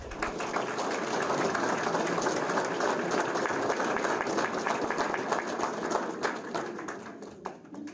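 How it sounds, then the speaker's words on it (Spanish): A conference audience at a Superior Court of Justice in Cajamarca applauds to welcome a speaker, steady and sustained clapping filling the hall for the whole stretch with no voices over it. "Lo recibimos con un fuerte aplauso"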